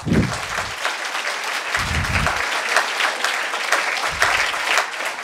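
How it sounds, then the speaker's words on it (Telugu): Sustained audience applause at a meditation gathering honouring Brahmarshi Patriji: dense, steady clapping that fills the whole stretch at an even loudness, with a few deeper thumps near the start and end. "బ్రహ్మర్షి పత్రిజీకి ఒకసారి గట్టిగా చప్పట్లు కొడదాం"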